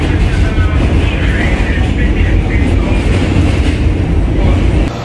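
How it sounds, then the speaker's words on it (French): A New York subway train near Times Square roars loudly and continuously, with rumbling wheels and a broad rushing noise from close by. No voices are heard. "je suis en train de sortir du parc, je prends le métro"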